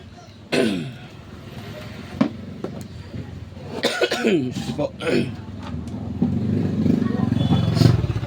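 A sharp cough bursts out near the start, followed by a couple of smaller throat sounds, while talking and an engine-like rumble continue underneath during a battery charger repair.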